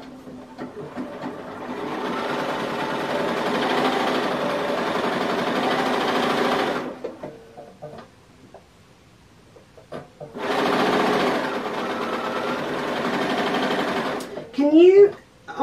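A sewing machine running at moderate speed in two long steady whirring stretches separated by a quiet pause, close and clear, with brief talk near the end.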